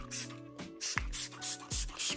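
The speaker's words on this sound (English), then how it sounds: "spray, and that'll keep the jacket nice and fresh" Tide fabric spray is pumped onto a motorcycle denim jacket turned inside out, producing a series of about six short, crisp hissing bursts with small clicks of the trigger between them, close and evenly paced.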